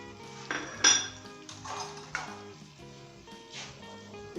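A spoon mixes spices into Hyderabadi mango pickle, giving a handful of irregular metallic clinks and scrapes against the pot, close and clear with short pauses between them.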